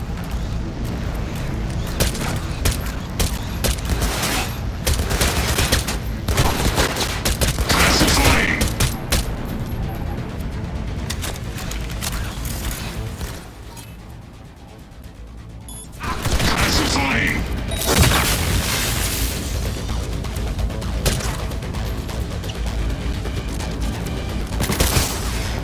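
A Cyberpunk 2077 firefight rages with dense, continuous bursts of gunfire and booming explosions, loud and close, briefly easing mid-way before the shooting surges back, with faint voices mixed underneath.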